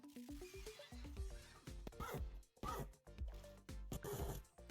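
A Minecraft donkey gives several braying calls, rising-and-falling tonal honks repeated in quick bursts, loud and close with no talking over them.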